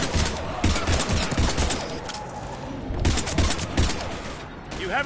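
Sustained heavy weapon fire in Mass Effect 3 Legendary Edition combat, repeated rattling bursts and thumping shots over several seconds, loud and close, with game characters talking amid the shooting.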